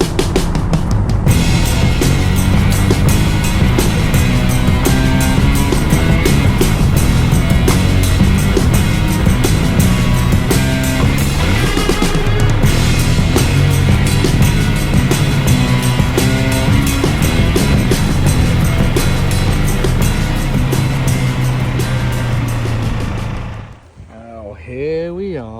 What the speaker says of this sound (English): Here we are with the Ducati Hypermotard 698 Mono RVE.